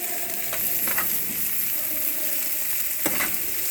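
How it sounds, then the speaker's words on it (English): Onions sauté in a pan as part of a chicken fajita dish, giving a steady, fairly quiet sizzle with a few soft stirring scrapes and clicks on top. No one talks. "Saute the onion well until it becomes translucent."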